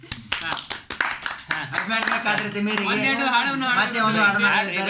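A few sharp hand claps ring out in a room where friends are joking around, quick and close in the first second or two, then give way to voices talking and singing.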